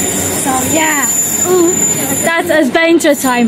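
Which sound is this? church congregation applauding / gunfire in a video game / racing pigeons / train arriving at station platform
train arriving at station platform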